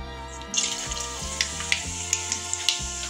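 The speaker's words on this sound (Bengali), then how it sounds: "এবার সেই তেলে আমি দেব অল্প কালো জিরে।" Black cumin seeds frying in hot oil left from fried potatoes in a Bengali kitchen, a steady close sizzle with sharp little pops and crackles scattered throughout.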